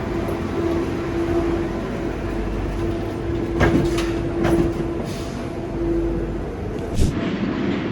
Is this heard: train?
yes